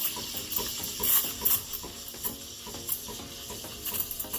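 Breville Barista Pro steam wand frothing milk, giving an intermittent tearing, hissing chatter with rhythmic bursts as air is drawn in, heard close up and fairly loud.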